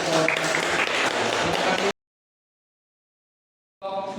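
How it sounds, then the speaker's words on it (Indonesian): Applause from students in a classroom, a dense patter of clapping hands for about two seconds, then silence before a short burst of sound returns. "beri tepuk tangan."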